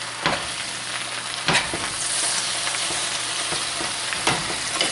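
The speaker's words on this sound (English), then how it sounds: "Give it a little stir." Wilting spinach greens stirred in a pot over medium heat crackle with a bright, steady sizzle, while a few louder scraping stirs break through up close.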